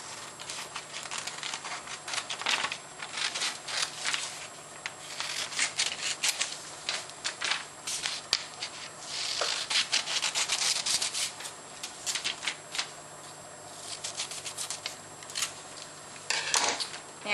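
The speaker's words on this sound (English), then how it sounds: "So now we're just going to cut this out." Scissors snip and rustle steadily through a printed paper pet ID card, a dense run of close, crisp cuts and paper crinkles lasting throughout.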